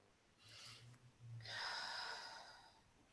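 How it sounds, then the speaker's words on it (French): A person draws a deep breath during a calm guided session, a faint airy inhale followed by a longer, louder breathy exhale, heard close and alone against a low background hiss. "tu peux prendre une grande respiration"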